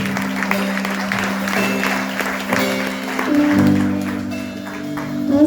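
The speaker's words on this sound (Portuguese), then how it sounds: "dê uma linda salva de palmas e diga amém" A church congregation claps together in a dense, sustained burst of applause, mixed with held musical tones and a few voices, filling the room at close range.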